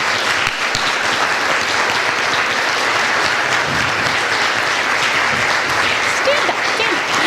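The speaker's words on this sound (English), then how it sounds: "give her a big round of applause" A conference audience at a business meeting gives sustained, loud applause, a dense and even wash of many hands clapping that runs unbroken throughout.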